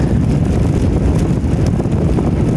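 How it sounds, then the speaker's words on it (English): A headwind buffets the microphone during a morning bike commute, a loud, constant low rumble of wind noise with no break. "It's a headwind. Not a bad one, but"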